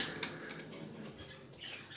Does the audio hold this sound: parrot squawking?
yes